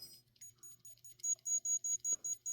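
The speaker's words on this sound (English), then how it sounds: "Hear them beeps." A Digimon Mini virtual pet device gives a run of short, sharp electronic beeps in a steady rhythm, close and clear, after a few faint chirps in an otherwise quiet room.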